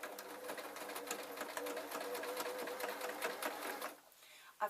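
A sewing machine stitches the ends of a fabric scrunchie, or hair tie, with a steady, fast run of needle strokes close to the mic that stops near the end.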